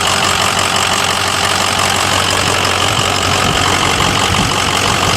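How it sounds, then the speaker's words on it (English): A 6.0-liter Powerstroke diesel idles close and loud with a steady, knocky clatter that runs without a break, and no voices are heard over it. "No matter where you're from, the sound of a 6-liter is just unbeaten in my opinion."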